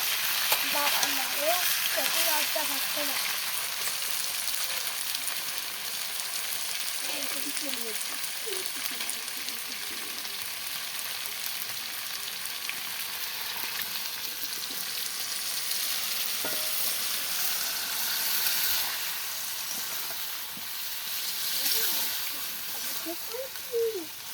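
Goat meat frying in wet spice paste in a village-style kitchen, a steady loud sizzle and hiss running throughout with occasional stirring scrapes and faint voices in the background.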